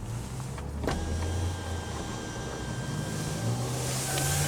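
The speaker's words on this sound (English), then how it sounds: "and your power sunroof controls." A power sunroof on a 2018 Toyota Prius Four hums steadily with an electric motor whine from the overhead console, continuing evenly throughout at moderate volume with no talking.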